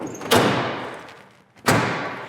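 A big hood on a 1970 Pontiac Grand Prix Model J slams shut twice, each a loud, close, solid thud with a decaying metallic ring, spaced about a second and a half apart.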